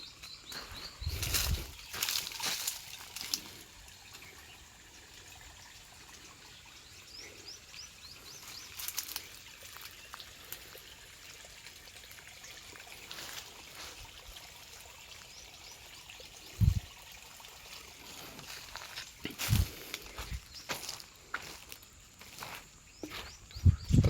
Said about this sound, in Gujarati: આ અત્યારે આમ પાણી હાલે છે આંબામાં